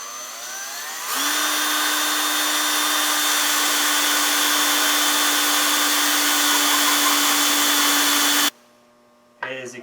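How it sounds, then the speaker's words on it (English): A power drill bores a 1/2-inch hole for a vertical hydroponic tower, spinning up sharply into a loud, steady whine that runs about seven seconds before cutting off, then a brief burst of motor sound follows. "So I'll drill that hole right now."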